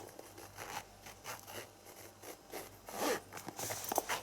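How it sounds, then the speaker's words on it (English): Zipper drawn open on the case of a budget phone camera lens kit, close and quiet, a rough, jerky run of short rasping pulls. "The least smooth zip ever."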